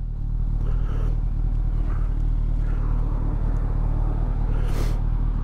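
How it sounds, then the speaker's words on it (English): A car rolls past on a countryside road, a steady engine and tyre rumble that swells as it nears and fades away, heard alone without talk. "All the traffic in the world turns up when you want to cross,"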